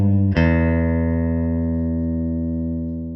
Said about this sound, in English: Then we'd bend the string by half a tone